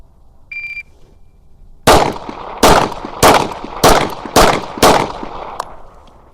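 Six sharp pistol shots in .40 Smith & Wesson from a Pro Mag magazine ring out at a steady, evenly spaced pace, loud and close, each with a short echo tail.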